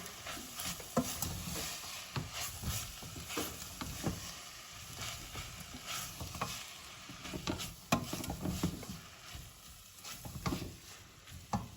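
A spoon stirs pepper into a braised lamb shank dish in red wine, making quiet irregular scraping and soft sizzling with occasional small knocks.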